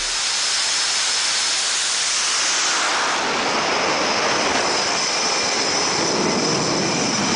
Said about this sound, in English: This guy got blasted by a jet while sitting behind it on an aircraft carrier.